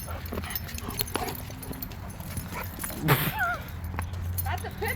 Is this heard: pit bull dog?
yes